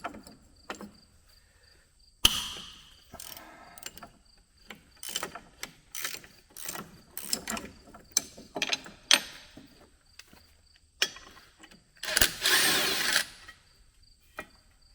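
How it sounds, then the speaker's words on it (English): Wrenches and power tools work on a Case IH 3412 corn head being taken apart, with short bursts of drill or impact-driver whirring, clanks and ratchety clicks spaced irregularly, close up and without talk. "So we're going to get some wrenches out, some power tools, and start taking stuff off."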